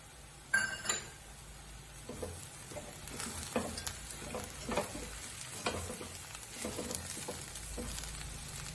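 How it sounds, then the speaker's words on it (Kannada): Roasted cashews are tossed into a pan of frying avalakki (flattened rice) with vegetables, bringing a soft sizzle and repeated scraping, stirring patters that run throughout, fairly quiet and with no talking. "ಇವಾಗ ಗೋಡಂಬಿ ಹುರಿದಿಟ್ಕೊಂಡಿದ್ನಲ್ಲ ಅದನ್ನ ಹಾಕ್ತಾ ಇದ್ದೀನಿ."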